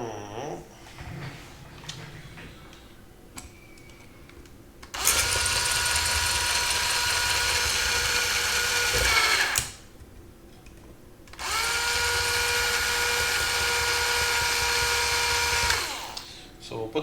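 Power drill used indoors on a hacked Rock 'em Sock 'em Robots toy set on a counter, two long loud whirring runs of about four to five seconds each, separated by a quiet pause, with soft handling noises before.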